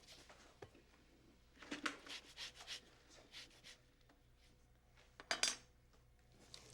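Oranges being zested for an orange almond cake, with soft scratchy rasping strokes coming in short bursts, faint and close, plus a few light clinks.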